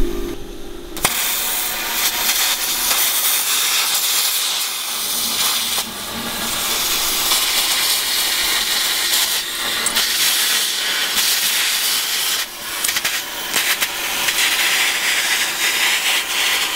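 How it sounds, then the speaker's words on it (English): A heavy-duty plasma cutter cuts into a car door, producing a loud, continuous harsh hiss and roar that runs steadily for many seconds with slight surges, close and alone without talk. "you just wheel out your plasma cutter"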